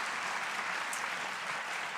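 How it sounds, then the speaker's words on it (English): Steady, dense applause from an audience at a live event of The Nation magazine in Portland, a continuous even wash of clapping heard at moderate distance with no voices over it. "Please give her a round of applause."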